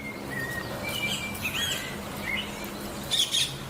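Birds sing and chirp outdoors, with several short, clear calls scattered over a soft, steady background hiss, with no talk.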